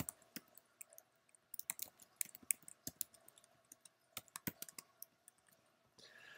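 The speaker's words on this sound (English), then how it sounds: "Here I am, I'm actually typing things" A computer keyboard is typed on in quick, irregular bursts of sharp, close key clicks separated by brief pauses, heard alone without speech.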